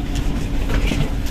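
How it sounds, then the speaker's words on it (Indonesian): Steady low rumble and rattling inside the Jakarta–Bandung high-speed train in motion, with a constant mechanical hum and faint rhythmic clatter, no voices. "beginilah suasana di dalam kereta api cepat Jakarta Bandung"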